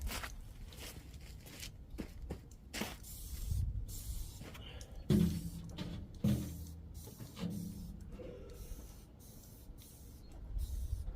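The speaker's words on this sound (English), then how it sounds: "I love spraying that on that frickin' grease." Several short, sharp spray bursts of dish soap hiss from a trigger bottle onto grease on a compact track loader, separated by pauses and quiet handling noises.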